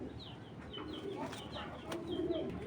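Domestic pigeons coo softly in repeated low calls amid faint background noise, a quiet and fairly distant murmur with no voices over it.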